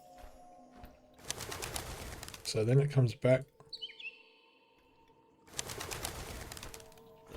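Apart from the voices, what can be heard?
bird disturbed and flapping away in Colossal Cave video game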